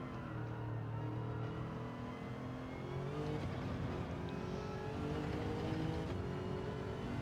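GT3 race car engine in Gran Turismo 7 at Lago Maggiore, a steady loud drone with shifting harmonic pitch as the car runs lap after lap, holding close and continuous throughout.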